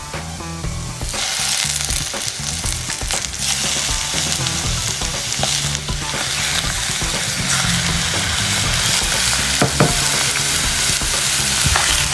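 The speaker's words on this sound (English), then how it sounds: "we keep stirring now until the color of the liver and the heart changes" Chicken liver and heart fry in a hot pan, making a loud, continuous sizzle broken by scraping stirs and occasional clattering knocks.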